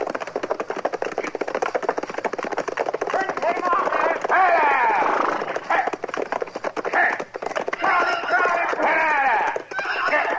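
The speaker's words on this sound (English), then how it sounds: "That's a runaway horse, Chester." A runaway horse gallops with rapid, continuous hoofbeats and lets out loud neighs, while people talk over the commotion.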